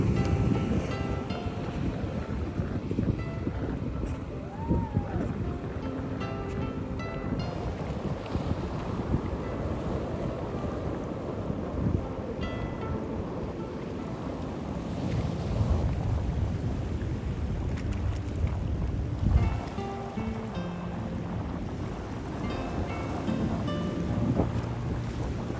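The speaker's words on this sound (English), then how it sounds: "It is quite windy this morning." Steady wind buffeting across a morning beach in Imperia, Italy, a broad continuous rush with gusts swelling and easing, mixed with distant surf and water sounds, no voices.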